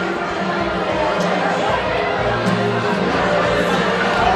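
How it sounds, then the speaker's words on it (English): A large crowd at a Circuit Riders School 2023 gathering makes a dense, continuous murmur of many overlapping voices, close and fairly loud, with no single voice standing out. "Look at this crowd"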